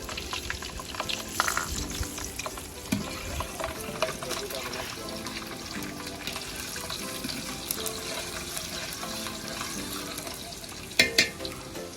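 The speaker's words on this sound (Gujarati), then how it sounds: "બે ગાંઠી આપણે લસણના નાખી દેવાના છે" Garlic cloves frying in hot oil for Kathiyawadi-style akni rice, a steady close sizzle running throughout with occasional stirring clatter and a brief louder clink near the end, faint talk in the background.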